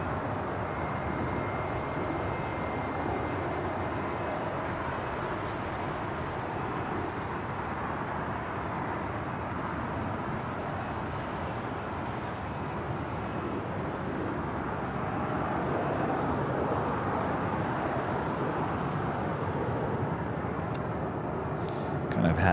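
A scheduled airliner comes in to land at LAX, a steady, moderately distant jet rumble that swells slightly near the end, with people talking over it.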